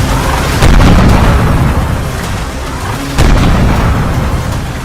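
Heavy explosions from air strikes on Baghdad, two big booming blasts about two and a half seconds apart over a constant loud rumble, harsh and saturated, with no talking.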